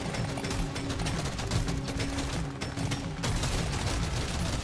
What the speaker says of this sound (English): Fire all the guns.